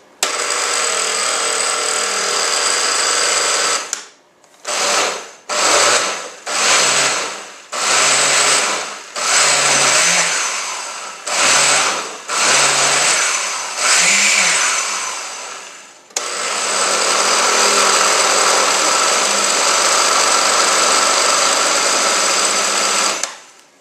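A blender purees cooked apples into applesauce, running loud and steady for about four seconds, then pulsing in about eight short bursts before a final long continuous run, with no talk.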